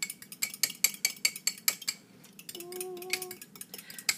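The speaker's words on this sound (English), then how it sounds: "And then you get a good stir on." A utensil taps and scrapes against a pan in quick, regular strokes while eggs and chopped garlic are stirred, pausing briefly before a short ringing clink and further scraping.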